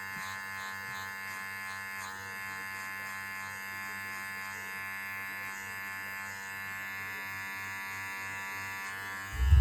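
Electric hair clippers with a number one guard, lever open, buzz steadily while fading hair, a constant close electric hum with no talk, ending in a brief louder knock.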